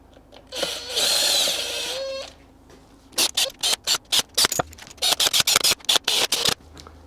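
A power tool runs down the engine bolts on a 2003 Seadoo 4tec 185 rebuild with an E11 socket: one sustained whir of about a second and a half, then a rapid series of short impact-like bursts, close up.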